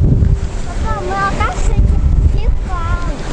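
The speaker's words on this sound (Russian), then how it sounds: "сдувает ветром песок в сторону" Wind gusts steadily over a sandy beach in Crimea, a rough, continuous low rumble buffeting the microphone, with a few brief voiced tones rising above it.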